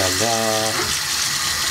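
Warm water runs from a bathroom tap in a steady, close, hissing stream. A brief voice is heard at the start, then the flow continues alone.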